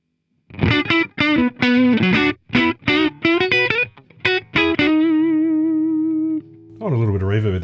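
Distorted electric guitar through a ToneX One pedal with no reverb plays choppy chords and single notes with dry, abrupt stops, then a sustained note rings out before a final strum.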